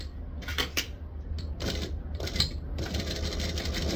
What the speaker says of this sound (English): We're going to stitch along only the long lines.